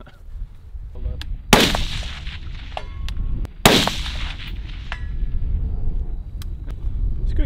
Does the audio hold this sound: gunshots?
yes